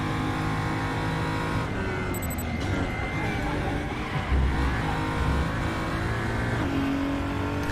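A race car engine in the RaceRoom racing video game, revving hard and shifting through gears in a continuous loud drone, with occasional tire noise and faint talk underneath.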